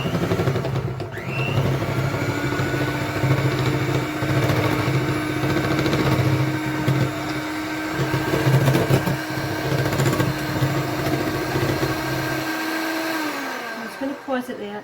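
An electric hand mixer whirs steadily through cupcake batter for raspberry swirl cupcakes, a loud continuous motor hum with shifting pitch as it works, then cuts off near the end.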